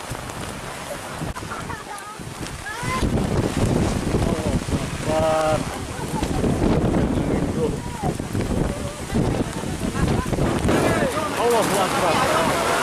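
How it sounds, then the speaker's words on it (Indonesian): Strong wind and heavy rain roaring over an outdoor event, a loud continuous gusting rush with people shouting and calling out over it throughout. "Hujan angin, bro."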